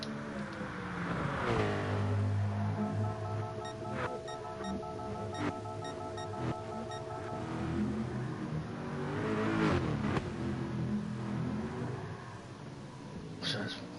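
A VW LMP prototype race car howls through a lap of Dragon Trail Seaside in a racing game replay, its engine note sweeping up and down through the gears, loud and continuous.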